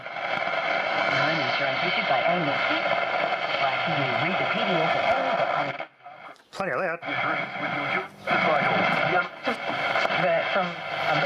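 An Operatone valve radio plays a broadcast, its slightly boxy, tinny sound carrying speech and music steadily, briefly dropping out partway through before resuming.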